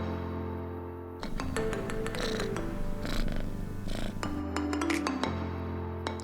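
A kitten named Pancake purrs steadily up close, a soft continuous rumble with some light clinking and faint background sounds over it.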